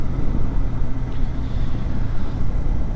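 KTM Adventure 250 motorcycle cruising in third gear at a slow crawl around 23–25 km/h, a steady low engine drone with wind rumble, continuous and close throughout with no talk.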